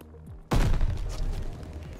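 Gunfire in the World War II shooter Call of Duty Vanguard erupts suddenly as a loud burst of rapid shots with a heavy booming low end, rolling on for over a second after a quieter lead-in.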